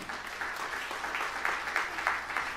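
Church congregation applauding during a sermon, a steady wash of clapping from many hands that swells slightly in places and carries on evenly throughout.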